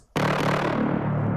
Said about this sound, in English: So the top one is a short bass stab.